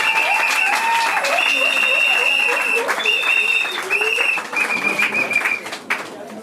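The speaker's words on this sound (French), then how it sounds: "ça mérite quand même des applaudissements" Guests applauding at a customary wedding ceremony, steady crowd clapping throughout with a bright whistle-like tone and chatter layered on top, tapering slightly toward the end.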